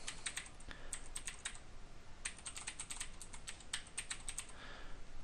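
Quiet typing on a computer keyboard, a steady run of soft key clicks with brief pauses, heard alone while entering an SSH command in a terminal window.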